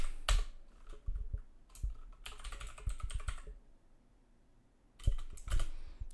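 Code being typed on a computer keyboard, close bursts of rapid key clicks separated by short pauses, with a longer lull before a final flurry.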